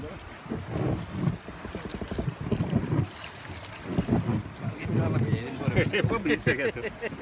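River waves splash and slap against a raft during rafting on the Karnali, with bursts of rushing water and wind buffeting over voices that talk throughout.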